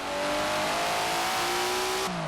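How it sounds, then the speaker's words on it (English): A tuned Datsun in Forza Horizon 4 revs hard with a loud, close engine drone that climbs steadily in pitch, then drops abruptly as it shifts near the end. "Never heard a Datsun sound like that, have you?"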